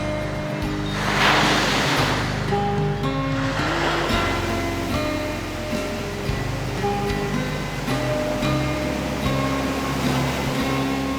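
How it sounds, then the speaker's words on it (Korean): Ocean waves break and wash steadily onto the surf beach at Yangyang under a strong wind, a continuous loud roar of surf with rising swells and no voices. "거침없이 밀려왔다 사라지는 파도에 오를 마음만 있다면"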